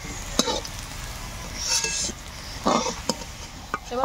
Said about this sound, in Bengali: এবার ভালো করে নেড়ে চেড়ে আলুগুলো ভেজে নেব।